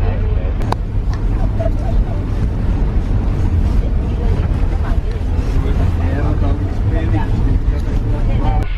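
A snowmobile creeps slowly over bumpy, snowy ground in Iceland while snow falls, giving a loud, steady engine rumble with wind buffeting the microphone throughout.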